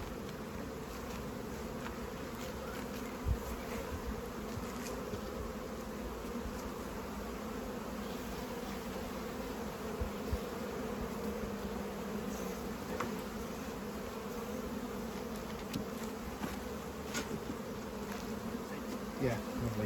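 Honey bees buzz steadily around open hives in a botanical garden, a dense, continuous hum lasting throughout with occasional louder passes close by.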